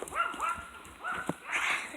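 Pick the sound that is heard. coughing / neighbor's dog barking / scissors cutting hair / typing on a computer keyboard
neighbor's dog barking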